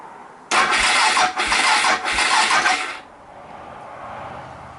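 Lithium-battery motorcycle engine cranking over for about two and a half seconds in loud, steady whirring bursts with brief dips, then cutting off to a quiet hum.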